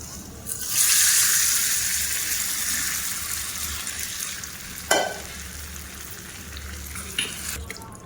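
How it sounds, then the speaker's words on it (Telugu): Hot spiced tempering poured into red chili pickle, a loud hiss and sizzle bursting in and fading to a steady frying crackle, with a couple of sharper spoon clinks partway through. "ఇప్పుడు దీంట్లో పోపు వేసుకోవాలి"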